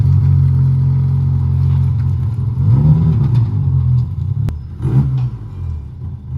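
The engine of a Fiat Cinquecento Sporting with a leaky exhaust idles near and loud, making a low, steady, burbling rumble that rises briefly once or twice, with no talking.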